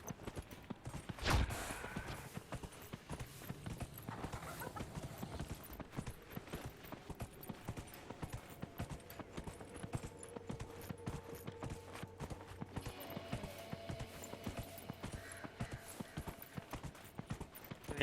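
Horse hooves galloping in Dragon Age: Inquisition, a steady rapid clip-clop rhythm running the whole time with game ambience and a brief louder knock early on.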